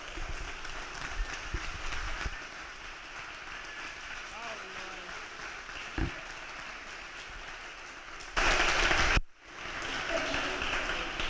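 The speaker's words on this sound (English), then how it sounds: "give our keynote speaker and seminar facilitator for today a warm round of applause" An audience at a seminar applauds the keynote speaker, attorney Georgette Miller, as she is introduced. Sustained clapping fills the room, with a louder close burst near the end, and voices are audible under it.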